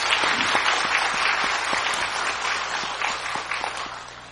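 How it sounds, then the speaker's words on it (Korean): A church congregation applauds its choir at a Sunday service with a full burst of clapping that starts strong and slowly fades over a few seconds, with no talking. "우리 한번 성가대원들을 위해서 큰 박수로 격려 한번 합니다."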